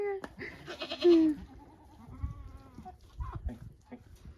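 Goats bleat close by, one loud wavering cry followed by softer bleats, with rustling, a person's voice and farmyard shuffling around them.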